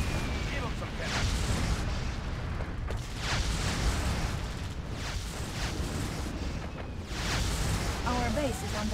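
Heavy cannon blasts from a real-time strategy game, several booming shots spread across the stretch with rumbling decay, layered over dense battle noise and in-game voice announcements.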